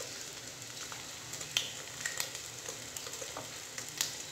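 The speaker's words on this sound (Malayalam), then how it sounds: "ആ മുട്ട ഒന്ന് നന്നായിട്ടൊന്ന് വേവട്ടെ" Egg sizzling steadily in a hot pan for chicken kothu porotta, a soft continuous frying hiss with occasional small pops and crackles, close and fairly quiet, with no voices.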